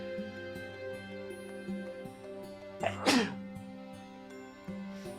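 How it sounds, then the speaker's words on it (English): A single sneeze bursts out loudly near the middle of the short stretch, set over steady background music from a Pokemon Brilliant Diamond game session. "I had to sneeze."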